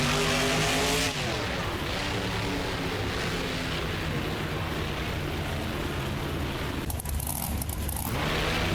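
A Bigfoot monster truck engine roars loud and steady through a wheel stand at a Monster Jam freestyle event in BeamNG Drive, with a brief dip near the end before the sustained revving returns.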